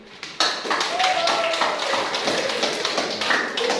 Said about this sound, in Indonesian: Ayo tepuk tangannya lebih semangat lagi dong